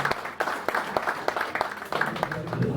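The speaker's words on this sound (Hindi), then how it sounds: "तालियों की गड़गड़ाहट के साथ" Audience applause at a Bar Association Foundation Day celebration, a moderate spread of hand claps with sharper individual claps standing out, steady through the short stretch.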